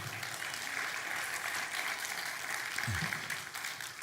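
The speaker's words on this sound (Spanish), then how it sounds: "Denle un aplauso al Señor." Church congregation applauding during a Spanish-language sermon, a continuous wash of many hands clapping at moderate distance, fairly even throughout, with a brief low voice sound near the end.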